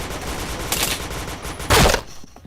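Gunfire during a shooter video game match, two loud bursts of shots with a brief gap between them, close and sharp, followed by a quieter tail.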